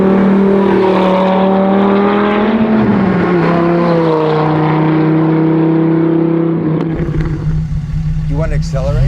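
A V10 engine in a swapped Honda S2000 hums loudly and steadily at a cruise, then shifts pitch as it accelerates, with people talking over it inside the car.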